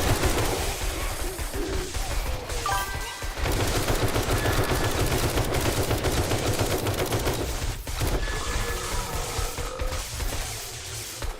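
Rifle fire in 7 Days to Die, a near-continuous stream of rapid gunshots, loud and close, with brief gaps between strings of fire.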